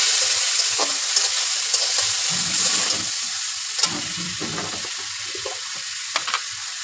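Chopped onion and a pinch of whole cumin frying in oil in a pan, a steady broad sizzle with scattered crackles and a few soft stirring scrapes, close and alone without talk.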